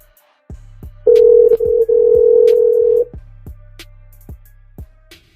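A telephone call ringing: a steady electronic ring tone sounds for about two seconds over a low repeating phone-line hum, with clicks and short bursts around it.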